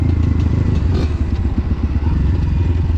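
A motocross bike engine revs loudly and continuously nearby during wheelie practice on a paved spot, a dense throbbing drone with faint clatter.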